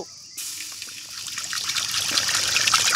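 Water pours steadily after a brief quiet start, a continuous splashing trickle that grows slightly fuller and louder toward the end.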